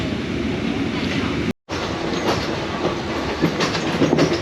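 A Thai train from Bangkok to Ayutthaya rumbles and clatters as it gets underway, steady rail noise with rhythmic clicking building slightly, briefly cut silent near the start.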